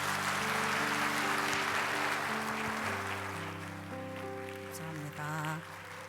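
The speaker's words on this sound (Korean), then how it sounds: "박수로 청해 주시기 바랍니다" A church congregation gives soft, diffuse applause at a Christmas thanksgiving service in LA, welcoming a deaconess to sing, faint and distant like light rain, with sustained organ or keyboard tones over it.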